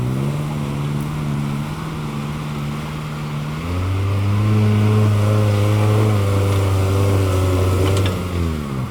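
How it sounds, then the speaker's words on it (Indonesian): A friend's motorcycle engine drones steadily and changes gear partway through, revving louder and lower before easing off, heard up close during a forest off-road outing in Aceh. "itu motor kawan"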